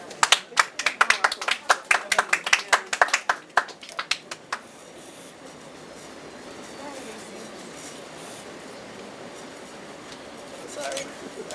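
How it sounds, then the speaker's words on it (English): An audience applauds award recipients, with a burst of clapping over the first few seconds that then fades into a low room murmur. "Round of applause for all the recipients."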